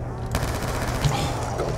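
Rapid automatic fire from an M27 rifle in Call of Duty Black Ops 2 Zombies on the Nuketown map, a loud continuous burst of gunfire with game sounds underneath.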